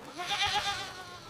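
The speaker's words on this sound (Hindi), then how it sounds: "रामू, एक बकरी? ये तो बहुत अच्छी है।" A goat gives a short wavering bleat, clear and alone, in an animated Hindi children's story.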